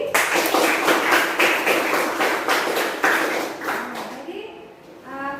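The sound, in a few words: classroom applause for Budi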